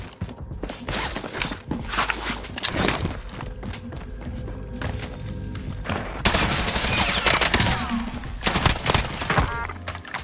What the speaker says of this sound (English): What the fuck is shooting me?